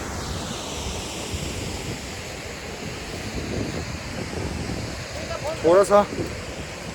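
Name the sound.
mountain waterfall on Hampta Pass trek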